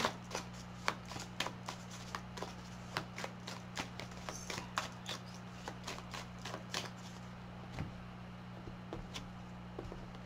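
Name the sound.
shuffling and drawing oracle cards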